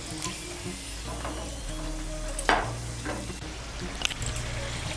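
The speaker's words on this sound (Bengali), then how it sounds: "আঁচটাকে মিডিয়াম করে লাল করে ভেজে নেব।" A folded snack of flour dough stuffed with potato and egg fries in a pan over medium heat, giving a steady, close sizzle with a few sharper crackles and light clinks of a utensil.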